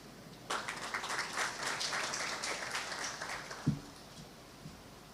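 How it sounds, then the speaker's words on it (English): Applause from a conference audience honouring a speaker: a moderate round of clapping from a crowd in a hall, starting abruptly and fading out after about three seconds, with a brief thump near the end. "A round of applause for Dr. Delano Dovlo."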